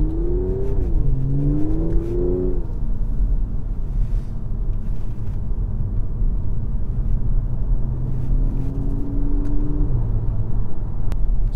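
An Audi S5 Sportback V6 turbo, Stage 2 tuned, revs loudly up close: a deep rumbling idle broken by two sharp rises in engine pitch that fall back, with no talking.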